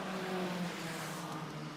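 Racing cars sweep past at Mondello Park during a circuit race, a sustained engine roar that stays loud across the whole moment, heard from the trackside.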